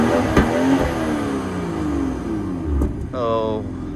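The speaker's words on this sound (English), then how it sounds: "Is, of course, a dual exhaust outlet setup vehicle, straight 6." A 2022 BMW M240i with a straight-six engine and dual exhaust outlets, in sport mode, revs up close with a rising then falling engine tone. Speech overlaps the engine note throughout.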